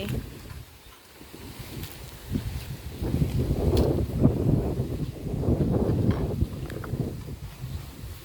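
Strong wind gusts blow through an outdoor area on a mushroom-foraging trip, sending a rough, rushing roar with rustling across the microphone. It builds to sustained gusts and continues without talk.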